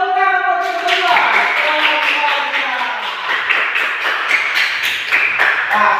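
Lower-grade schoolchildren in a classroom applaud after a brief spoken voice: a dense, close, fast patter of many hand claps that continues steadily to the end.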